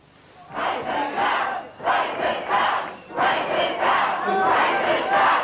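An irate crowd protests at a Pauline Hanson party branch meeting in Victoria, chanting in loud, rhythmic bursts of massed shouting that rise and fall in repeated waves.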